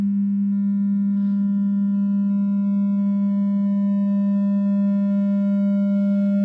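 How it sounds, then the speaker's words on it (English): A steady pure sine tone fed into a distortion stage, holding one loud pitch while faint upper partials grow above it as the level rises, with brief higher bursts near the start and end. "as I increase level into this distortion stage, we see that we're introducing upper partials, we're changing the wave shape as it gets more and more distorted"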